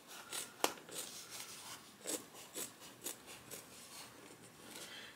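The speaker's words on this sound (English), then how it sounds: "then we're gonna cut through all those layers" Scissors cut through stacked layers of fabric and foam for a messenger bag, giving soft, rasping snips in an uneven rhythm, close and fairly quiet.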